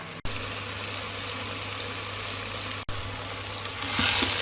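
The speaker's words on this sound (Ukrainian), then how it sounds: "І я ще додам трошки чеснику, теж поки смажуться овочі, додам його" Vegetables and garlic fry in a pan with a steady, close sizzle and a constant low hum underneath, broken by two brief dropouts and swelling slightly louder near the end.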